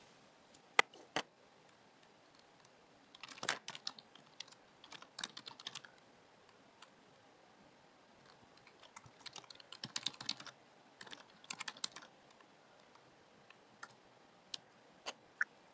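Someone types on a computer keyboard in soft, irregular bursts of clicking keys with pauses between, quiet and close in an otherwise still room.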